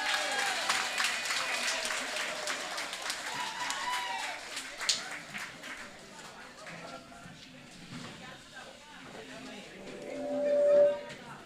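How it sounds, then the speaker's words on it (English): Audience at an NNP Women's Forum celebration clapping for an arriving guest speaker, with dense applause in the first half that thins out and fades, followed by scattered voices. "Give her a round of applause, please."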